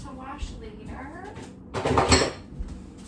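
A utensil tossed into a kitchen sink while French toast and eggs cook in a waffle iron gives a loud clattering crash of metal against dishes near the end, after a stretch of softer kitchen noise and murmured talk.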